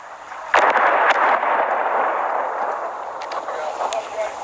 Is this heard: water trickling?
no